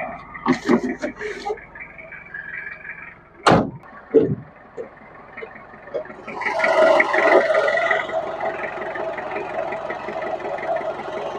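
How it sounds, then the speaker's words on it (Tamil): Front bonnet of a Toyota Qualis being opened: a sharp latch clunk and a couple of metallic knocks, followed by a steady engine idle nearby. "ஸோ ஃப்ரண்ட் பேனட் ஓப்பன் பண்ணி காமிக்கிறேன்."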